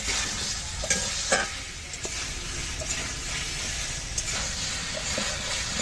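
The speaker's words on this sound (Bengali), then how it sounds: "মশলার সাথে আমি কলাগুলো ভালো করে কষাবো।" Turmeric-coated banana pieces are stir-fried with spices in a pan for a banana kalia curry, giving a steady close sizzle with scraping stirs and small spatula knocks, no voices.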